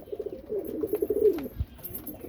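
Rajshahi pigeons coo at a household loft, a soft rolling warble lasting about a second and a half, close by, with light background noise and no talk.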